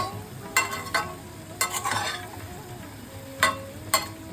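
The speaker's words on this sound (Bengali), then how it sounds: "আমি ঢাকাটা খুলে দিলাম হালকা হাতে ওপর নিচে করে দিচ্ছি" A chorchori of gima greens and vegetables cooking in a pan, turned gently with a spatula: several soft scraping, rustling stirs over a low, steady sizzle, close by and without talk.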